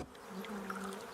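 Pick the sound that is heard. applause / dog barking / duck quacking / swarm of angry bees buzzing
swarm of angry bees buzzing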